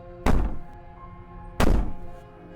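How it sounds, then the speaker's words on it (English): Two heavy, booming thuds against a door in the video game Slay the Princess, spaced over a second apart, each loud and close with a lingering resonant decay. "Maybe the banging and wailing will stop if you just don't pay attention to it."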